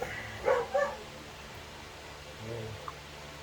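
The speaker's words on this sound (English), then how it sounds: "Oh, there's the dogs" A couple of dogs barking in the distance outdoors, two quick barks near the start, then a fainter yip and bark later, under low background noise.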